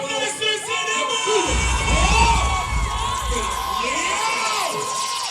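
A loud crowd at a white-out beach party cheers, whoops and yells continuously, with shrill rising shouts over a dense roar of voices and a deep low rumble underneath.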